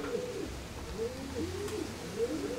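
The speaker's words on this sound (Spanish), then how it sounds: "Ah, esto es un palomo largo, fino." Pigeons cooing inside a loft, a steady series of soft, rolling low coos repeating over a constant background hum.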